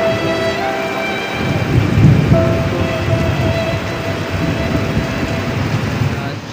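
Steady heavy rain with a low rumble of thunder during a beach outing in Pitogo, Quezon Province, dense and close, with a faint tonal hum underneath and no talk.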